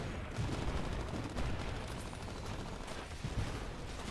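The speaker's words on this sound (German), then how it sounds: "Von wo werde ich denn beschossen?" Gunfire in the video game Titanfall during a multiplayer match, a dense, steady stream of rapid shots and mechanical clatter filling the whole stretch at fairly high level.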